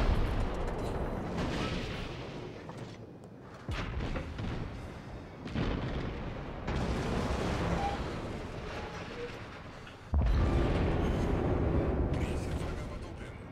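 Loud, booming cannon blasts from a World of Warships battle aboard the destroyer Wakatake, several heavy shots with dense rumbling between them and a strong burst near the end.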